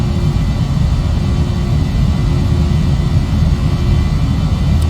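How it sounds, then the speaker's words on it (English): Airliner jet engines in a flight simulator game on a clear day give a steady, loud, broadband roar with a deep rumble that holds constant throughout, with no voices over it. "Can you hear those engines now, guys?"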